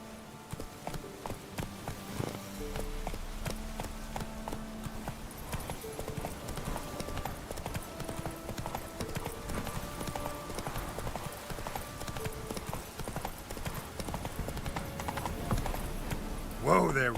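The horse Roach in the video game The Witcher 3 galloping, a fast continuous clip-clop of hooves throughout, layered with game music and a voice talking over it.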